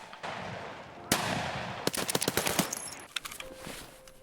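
Bursts of rapid gunfire crack out in quick succession in Escape from Tarkov, some single shots and some clustered, over a steady background rumble in the game.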